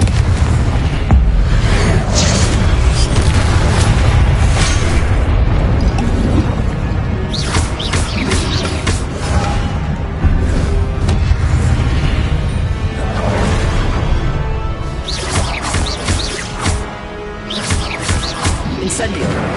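Confringo spell blasts in Hogwarts Legacy, repeated loud booming explosions bursting through a dense, continuous battle din, with a voice shouting spell names in between.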